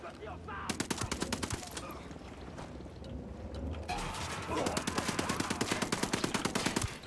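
Rapid automatic gunfire rattles in a long, dense string of shots in Ghost Recon Wildlands, growing louder and heavier in the second half.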